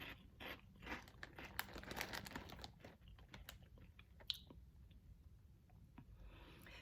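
Crunchy, light, sweetened breakfast cereal being chewed up close, with a rapid string of dry, crackly bites for the first few seconds that then thins out into scattered softer crunches. No one speaks.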